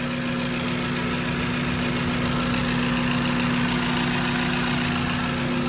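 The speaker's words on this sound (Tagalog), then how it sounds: "Tunog sang makina mga boss ah." A Toyota Corolla big-body sedan with a 1.6-litre 16-valve engine idles steadily up close, a constant even drone with a low hum and no voices.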